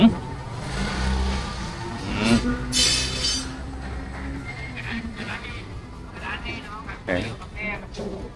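City buses and general traffic roll along Yommarat Sukhumvit road near Khlong Thom in Bangkok at night, with engines droning and occasionally revving close by while someone talks over the noise.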